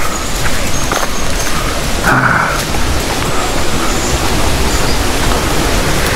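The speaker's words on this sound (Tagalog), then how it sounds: "narinig ko na yung agos ng tubig" A steady, loud rush of flowing river water fills the whole clip, constant and close with no pauses.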